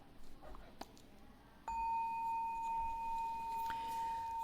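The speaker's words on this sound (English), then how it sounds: "The bells sound" A bell struck at a Buddhist temple lecture: after a quiet, faintly rustling opening, a single clear ring starts sharply and hangs on as a steady, bright, sustained tone to the end.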